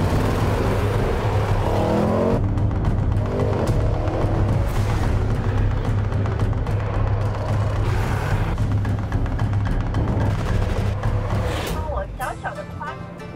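A 2018 Range Rover Sport PHEV plug-in hybrid climbs the Dragon Challenge, its drivetrain roaring loudly and steadily up close under a passenger's talk before easing off near the end.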